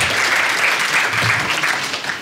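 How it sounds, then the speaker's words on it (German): Applause from a seated audience at a panel discussion on rare diseases, a dense, steady burst of clapping that fills the room for a couple of seconds and begins to thin out at the end. "grossen Applaus"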